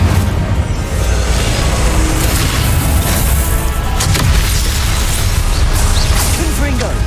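An Incendio fire spell cast in the Hogwarts Legacy video game, a loud rushing whoosh and burst of flame within dense, continuous spell-combat noise, with a voice calling out over it.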